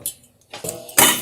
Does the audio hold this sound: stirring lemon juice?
yes